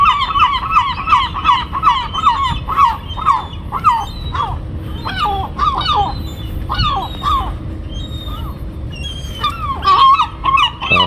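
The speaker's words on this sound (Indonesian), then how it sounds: "Burung camar." Seagulls call repeatedly in a pedestrian area of Oslo, loud rhythmic yelping cries from several birds overlapping, over a rumble of outdoor background noise.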